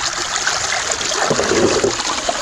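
Water streams and trickles steadily off a gold prospecting sluice box as it is lifted out of a river, a continuous loud wash of running water with no talk.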